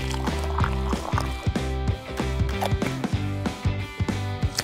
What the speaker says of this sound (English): Some water and stir.